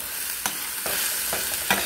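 Garlic and onion frying in a hot skillet give off a loud, close, steady hiss, with a few sharp scraping stirs cutting through it and no voices.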